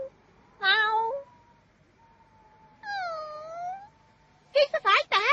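A cat meows several times, with a long wavering cry early, another drawn-out meow in the middle and a quick burst of short mews at the end, close and clear against a quiet room.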